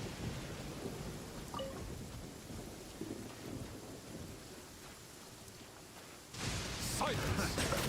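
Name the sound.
heavy rain and thunder in Genshin Impact video game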